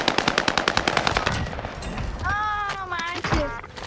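Gunfire from a gun in the video game Fortnite, a rapid rhythmic burst of loud close shots followed by electronic whirring effects, with a voice talking over it.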